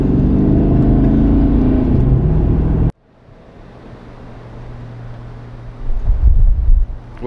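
A car speeds up on a highway, a loud steady roar of wind buffeting the microphone that cuts off abruptly to a quieter cabin hum, which then swells again as the engine pulls harder.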